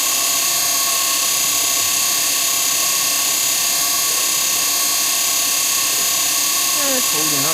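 A treadmill runs on its newly fitted replacement motor, giving a steady, even hum with a faint whine held at one pitch throughout, and a brief shift in tone near the end.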